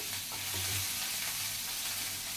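Green chillies and cumin seeds frying in hot oil with a steady, moderate sizzle and light stirring, close and uninterrupted, with no talking.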